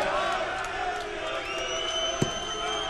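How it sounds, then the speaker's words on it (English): Darts crowd of Phil Taylor fans singing for him at the 2015 World Series of Darts Finals, a loose, moderately distant chorus of voices over arena murmur, with a brief sharp knock partway through. "A few Phil Taylor fans singing for their hero."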